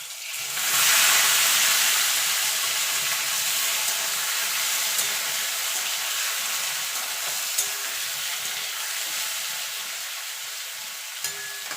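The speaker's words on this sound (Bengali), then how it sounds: "এই তেলে ইচড়গুলো ভেজে নেব" Young jackfruit pieces fry in hot oil, a loud, continuous hissing sizzle that swells at the start and then holds steady, with a couple of faint clicks.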